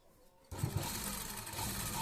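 A sewing machine starts up and stitches through folded cloth, a steady close mechanical whirr running without pause after a brief quiet moment, with no talking.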